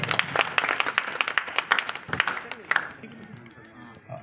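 An audience claps at a ground-breaking puja ceremony for a yagyashala, with a dense, lively round of applause that fades and thins out over its last second or so.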